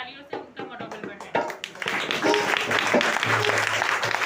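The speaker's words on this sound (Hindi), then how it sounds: "तालियों से उनका मनोबल बढ़ाएं" An audience applauds children performing at an Independence Day program, the clapping swelling from scattered claps into a dense, sustained round, with voices underneath.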